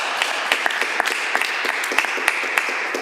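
Applause in the Legislative Assembly of Alberta chamber during an afternoon session, with steady, dense clapping held at an even level and scattered sharper claps standing out.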